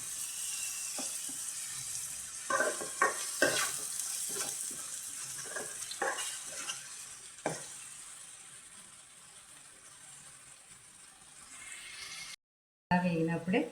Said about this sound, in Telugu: ఇప్పుడు టమాటా ప్యూరీ చేసుకున్నాం కదా, అది కూడా వేయించేసుకోవాలన్నమాట.